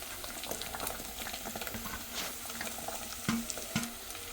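Potatoes, carrots and curry leaves fry in a pan, a soft continuous sizzle close by, broken by several sharper scraping stirs near the end.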